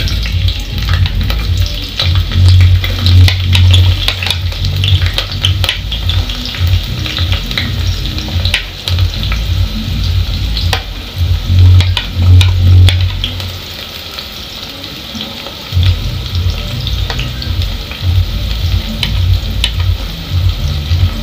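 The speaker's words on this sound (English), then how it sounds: "I think our cooking oil is ready, so we are going to add in the onions." Onions frying in hot cooking oil as part of a simple fish dish, a steady loud sizzle with occasional stirring, continuous for about twenty seconds with no talking.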